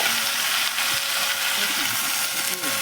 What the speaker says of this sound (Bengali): জলটা পড়লো